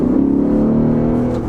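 A 2020 Lexus GS F's V8 engine pulls hard under acceleration, a loud, steady, close-up growl that holds and builds without a break and with no voices over it.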